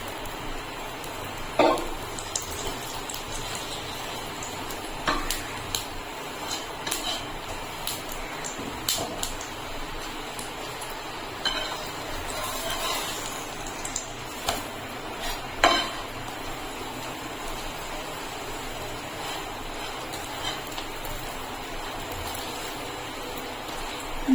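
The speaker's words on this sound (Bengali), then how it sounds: "গ্যাসের ফ্লেমটা মিডিয়ামে রেখে এবং হালকা লাল লাল করে ভেজে নেব।" A dahi paratha frying in a little oil in a pan over a medium flame, a faint continuous sizzle with scattered light clicks and scrapes from a spatula.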